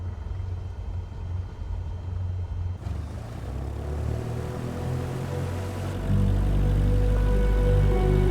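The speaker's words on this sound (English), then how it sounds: "let me taxi to the runway" A propeller airplane taxis toward the runway in Microsoft Flight Simulator 2024, a steady low engine drone and propeller hum that builds in two clear steps as power increases, continuous and close, with no talking.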